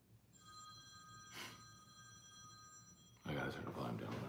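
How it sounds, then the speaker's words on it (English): A phone ringtone plays a steady electronic ringing tone for several seconds, moderately loud, before people start talking over it. "My dude just sits there and listens to ringtones."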